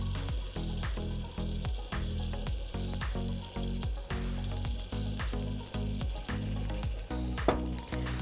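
An onion dosa fries in oil on a pan, giving a close, loud, continuous sizzle that crackles and pulses steadily without any talking.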